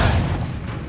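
A Confringo fire spell blast in Hogwarts Legacy lands as one loud, deep boom that rumbles for about a second with no other sound.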